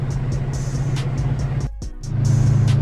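A 2005 Subaru WRX with a hood scoop cruises along, its engine holding a steady low drone heard from inside the car. The note dips briefly near the middle, then returns a little stronger.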